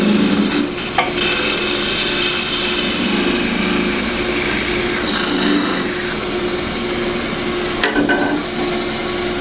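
A wood lathe spins as a tool cuts a turned wooden scoop free, a steady loud motor hum with scraping and cutting noise and a few sharp ticks and knocks along the way, no talking.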